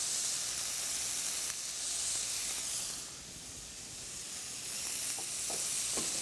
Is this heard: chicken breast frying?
yes